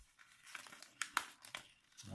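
Paper is creased and folded into an origami lotus flower, giving soft close crinkles and a few sharper crackles in short bursts, faint and without speech.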